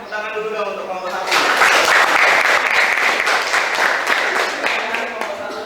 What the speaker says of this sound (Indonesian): Kasih tepuk tangan dulu dong untuk kelompok 1.